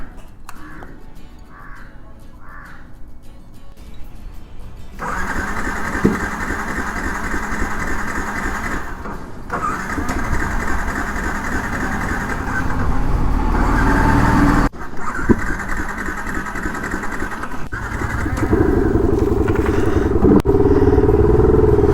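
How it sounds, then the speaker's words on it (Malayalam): A motorcycle engine sputters, catches and settles into a steady close idle after a quiet start, with birds audible before the engine fires. "ഫൈനലി വണ്ടി ഓണായി കേട്ടോ"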